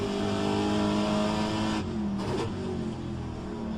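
A Pontiac Firebird Trans-Am race car engine in rFactor 2 drones at a steady high pitch, dropping briefly partway through as if shifting gear, then continuing.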